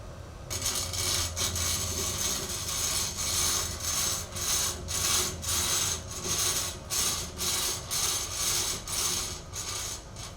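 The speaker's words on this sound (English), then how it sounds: "The motor now slips up past the top of the carriage." On a large bandsaw mill, a sawhead lift motor with chain linkage raises the carriage, giving a continuous mechanical whir with a rhythmic, pulsing ratchet-like clatter that grows steadier over ten seconds, with no talking.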